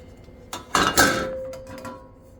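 Stainless steel parts of an OMNIA camp oven being handled, producing a few close metallic clanks and clinks in quick succession, with a faint lingering ring afterward.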